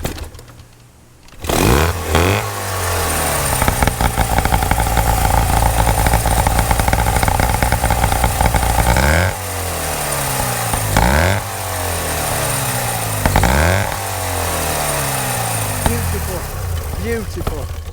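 A 1930 Scott Flying Squirrel motorcycle engine is kicked over after a silent moment, catches and runs loudly and close, with repeated blips of revving throttle and a steady two-stroke clatter, with a voice heard under it.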